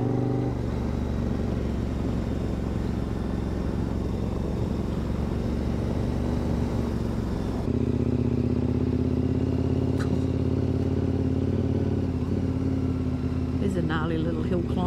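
An adventure motorcycle climbing a hill on a bush road in Waikaia, New Zealand, with a steady engine drone and wind roar from onboard throughout, the engine note changing partway through, and people talking over it.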